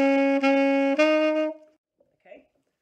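An alto saxophone plays a short, simple phrase from a song, a few sustained reedy notes with clean, bright tone, repeating one pitch before a brief step, then falling silent apart from a faint breath or voice.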